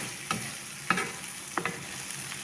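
Dry beef simmering with tomato sauce and masala in a pan, with a low sizzle broken by a few spaced spatula scrapes, close and fairly quiet with no voice.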